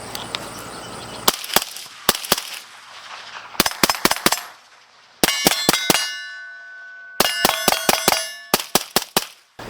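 Suppressed gunshots from a 10.3 inch 5.56 AR fitted with a Ridgeback Rhino X suppressor, loud sharp reports fired in quick strings of three to five with ringing metallic decay between bursts, outdoors.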